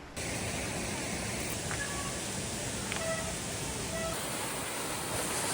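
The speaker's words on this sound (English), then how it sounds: "Nice waterfall in the rain." A waterfall pours in the rain along a mountain trail, a dense, steady roar of rushing water heard close and unbroken, with faint tonal chirps briefly above it.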